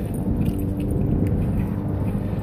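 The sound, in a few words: lawn mower mowing grass nearby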